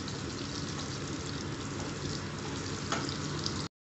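Chicken pieces fry lightly in hot oil for chilli chicken, giving a steady, close sizzle that continues evenly throughout before cutting off.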